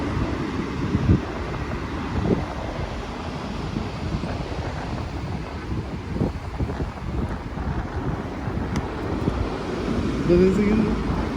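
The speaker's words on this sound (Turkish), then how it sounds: "Acayip dalgalı bugün." Gusty wind buffets the microphone over rough, choppy surf at a women's beach, with a churning roar of waves that swells and falls beneath muffled voices.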